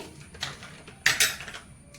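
A tablespoon clinks against a bowl while coriander (dhaniya) powder is added during home cooking, a few light metallic taps, the two sharpest close together near the middle, fairly quiet and close.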